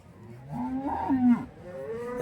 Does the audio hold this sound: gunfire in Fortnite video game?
no